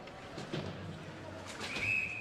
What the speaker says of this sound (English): And a whistle on the play.